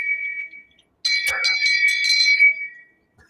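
A bright electronic bell chimes alone: a short ring, then after a brief pause a longer shimmering ring with several overlapping metallic tones that fades out.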